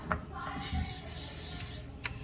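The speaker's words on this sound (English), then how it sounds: "I'm just gonna spray a little bit on here too" Two short bursts of hissing from a cooking oil spray can, close by, with a soft click and faint handling noises around them.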